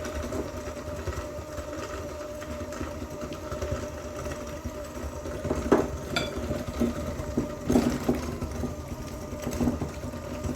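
Cream cheese and white sugar mixed in a bowl, likely by an electric mixer, a steady whirring motor drone through the whole stretch with a few light clinks.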